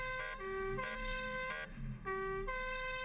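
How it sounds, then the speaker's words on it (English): A European emergency vehicle siren wails in a repeating two-tone pattern at rush hour, moving to a car accident, sounding clear and tonal over faint traffic noise. "That is not my favorite siren, I will say that."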